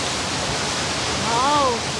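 Gokak Falls in India, site of an early hydroelectric plant, gives a steady broadband waterfall roar, with a short rising-and-falling whistle-like tone near the end.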